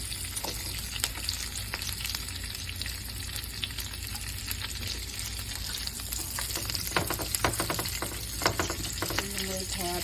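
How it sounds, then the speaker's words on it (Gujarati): Onions frying in a pan after chillies for Afghani paneer masala, a steady close sizzle with occasional stirring scrapes, continuous throughout with no talk. "એટલે સૌ પ્રથમ આમાં પહેલાં ડુંગળી નાખી દઈશ."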